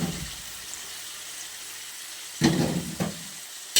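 Bagoong shrimp paste fries in a pan for pork kare-kare, giving a soft steady sizzle broken by a few sharp stirring scrapes and clatters near the end.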